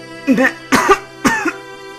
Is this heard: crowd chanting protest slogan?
no